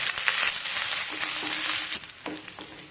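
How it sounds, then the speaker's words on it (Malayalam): Mustard seeds, fenugreek, sliced shallots and dried red chillies sizzle in hot coconut oil in a pan for a drumstick and buttermilk curry, a steady close crackle with brief spatters and stirring scrapes that ease near the end. "ചൂടായ ചട്ടിയിലേക്ക് ഒന്നര ടേബിൾ സ്പൂൺ വെളിച്ചെണ്ണ ഒഴിച്ചു കൊടുക്കാം കാൽ ടീസ്പൂൺ ഉലുവ അര ടീസ്പൂൺ കടുക്"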